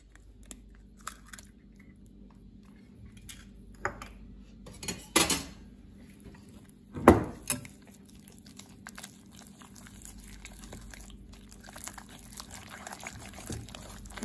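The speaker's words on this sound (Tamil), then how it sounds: "இப்போ முட்டை உடச்சி ஊற்றிக்கலாம்." An egg is cracked against a bowl and poured into a chicken 65 marinade with turmeric. It gives a few quiet, sharp clinks and taps spread over a faint, hushed kitchen background.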